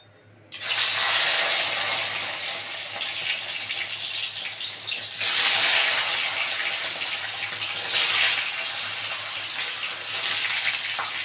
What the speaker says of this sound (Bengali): এবার আগে পনিরটা ভালো করে ভেজে নেবো